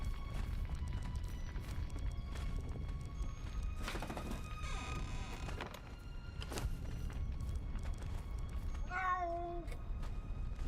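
A cat meows once near the end in the video game Conan Exiles, over a steady background hum with faint footsteps and clicks, no talking.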